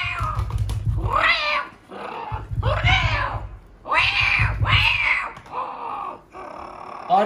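A voice mimics two cats fighting, trading yowling, rising and falling caterwauls and growling meows in repeated bursts with short pauses between, close and loud.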